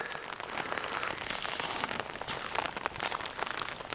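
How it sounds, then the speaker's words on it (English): Rain falls steadily on surfaces outdoors, a dense continuous hiss of patter with scattered sharper drops, even and moderately quiet throughout with no talking. "And now it's starting to rain more."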